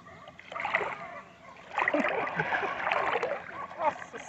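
Someone swims in a river, sending out bursts of splashing and sloshing water in uneven waves at close range, with brief pauses between strokes.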